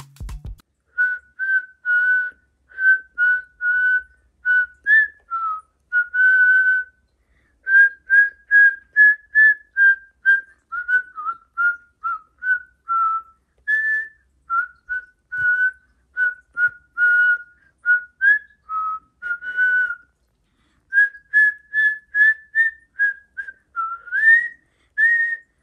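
A person whistles the melody of Jingle Bells indoors, short clear tones in a steady tune with brief pauses between phrases, loud and alone.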